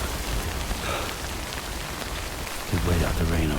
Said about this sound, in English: We'll wait out the rain over there.